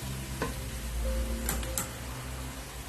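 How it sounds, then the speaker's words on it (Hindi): Onion slices frying in ghee in a pan: a steady, dense sizzle throughout, close by, with a few sharp clicks and scrapes of stirring and a faint tonal hum underneath. "ये मैं घी में फ्राई कर रही हूँ"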